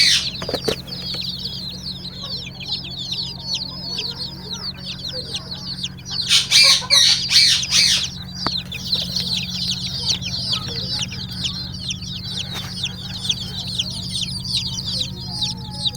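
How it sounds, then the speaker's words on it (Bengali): Layer and native (deshi) chicks cheep steadily in a hatchery that also holds an incubator, their high chirps forming a dense continuous chorus over a low steady hum, with a louder burst of activity partway through. "এগুলো হচ্ছে দেশি মুরগি বাচ্চা লেয়ার বাচ্চা"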